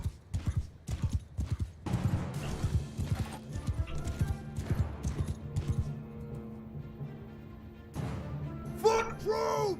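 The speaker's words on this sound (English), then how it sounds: "I have the fastest horse in the game," Horse hooves gallop in the medieval combat video game Mount & Blade II: Bannerlord, on the fastest horse in the game. The quick, rhythmic clip-clop runs throughout, with occasional whinnies and other battle noise around it.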